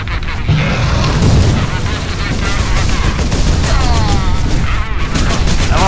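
A radiant rifle fires at a squig in the Space Marine video game, with dense booming bursts of gunfire and explosions, and voices talking over the shooting.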